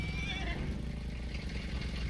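A horse in Farming Simulator 19 gives a loud whinny near the start, heard over a steady low rumble of farm ambience with faint background noise throughout.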